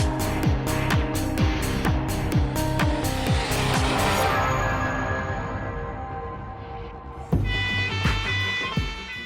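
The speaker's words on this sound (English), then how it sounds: "police are chasing two youths in a stolen car who are refusing to stop" A stolen car fleeing police on Manchester's M60 motorway roars hard through repeated gear shifts, its engine note climbing and dropping, with tyres squealing and another vehicle surging close near the end; no voices.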